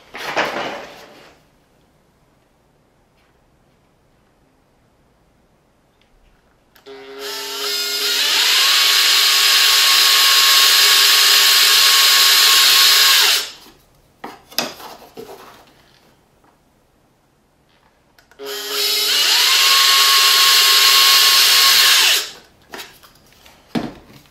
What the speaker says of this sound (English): now we just need to drill a couple holes